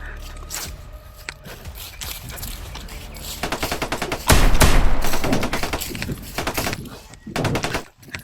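Sustained bursts of rapid automatic gunfire from a video game, dense and loud, swelling midway and continuing in repeated volleys, with brief shuffling and scraping sounds underneath.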